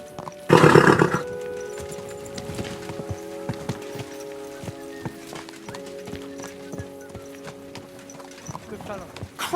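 Horse hooves clip-clop in the video game Kingdom Come Deliverance 2, an irregular run of hoof falls beside a loud opening burst and a neigh, while people talk over it.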